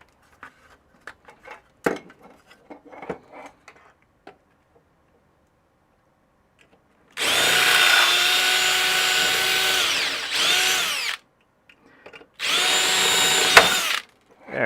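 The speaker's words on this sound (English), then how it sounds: "We used power tools on the stream today." Two loud bursts of a power drill running, several seconds each with a short pause between, preceded by quiet clicks and handling noises.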